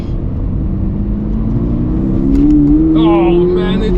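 A Toyota GR86 sports car lapping a track, its engine holding a steady loud drone that rises gradually in pitch as it accelerates, with a voice briefly speaking over it near the end.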